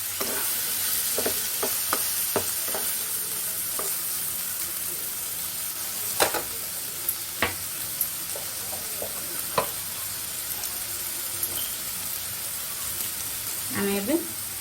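Chopped tomatoes are stirred into a sizzling masala in a pan over low gas heat for prawn biryani, with a constant frying hiss and scattered scraping taps of the spoon, close and steady.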